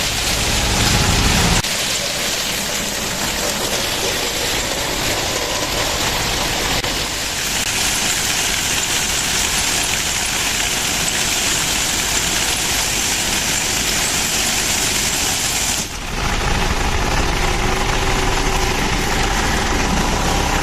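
Tractor engine running steadily during a walnut harvest in an orchard, a constant broadband rumble and hiss that stays loud throughout, dipping briefly near the end before resuming.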